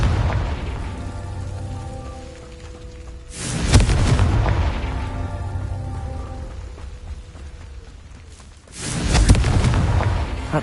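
Two booming Confringo spell explosions in the video game Hogwarts Legacy, each a loud burst that swells and rolls out, about five seconds apart, over a steady rain-like hiss.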